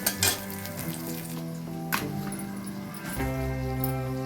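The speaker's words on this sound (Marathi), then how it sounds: "हे साबुदाणा शेंगदाण्याचं कूट आणि मीठ टाकलेलं मिश्रण आपल्याला कढईमध्ये टाकायचे आहे" A sabudana khichdi mixture of tapioca pearls, crushed peanuts and salt fries in a kadhai, giving a continuous crackling sizzle with occasional stirring clatter over a steady background hum.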